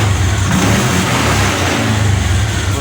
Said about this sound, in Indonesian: Nah oke, ini motor lagi menyala teman-teman.